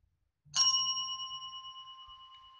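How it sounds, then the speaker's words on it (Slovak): A small bell shaped like a pinecone is struck once, giving a bright, clear ding that rings on and slowly decays in a quiet room. "Je to tento zvonček."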